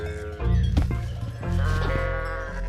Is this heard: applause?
no